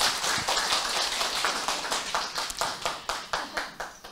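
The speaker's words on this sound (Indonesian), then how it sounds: "Tepuk tangan dulu untuk Bapak." Participants at an agricultural training session clap for a man, a dense wash of applause that thins into a few distinct, regular claps toward the end.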